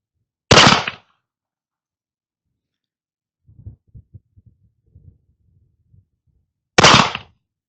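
Two loud, sharp shots from a Colt pocket revolver fired offhand at a paper target 15 yards away, spaced several seconds apart, with soft handling clicks between them.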